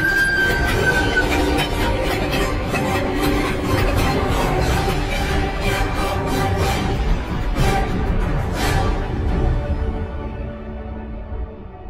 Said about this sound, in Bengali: তারপর মাটি কাঁপিয়ে ট্রেনটা আমার পাশ দিয়ে এগিয়ে যেতে থাকলো